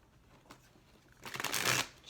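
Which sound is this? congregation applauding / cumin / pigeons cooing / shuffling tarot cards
shuffling tarot cards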